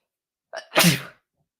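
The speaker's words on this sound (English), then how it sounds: "I'm going to sneeze." A single sharp sneeze bursts out after a brief inhaled lead-in, close and clear against silence.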